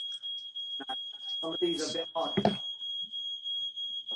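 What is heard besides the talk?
fire alarm beeping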